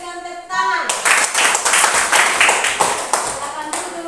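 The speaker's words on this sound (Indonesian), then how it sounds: "Oke, kita berikan tepuk tangan." A classroom of students claps together after a group presentation, brisk many-handed clapping that starts abruptly and continues densely for a few seconds, close and loud, with a teacher speaking just before.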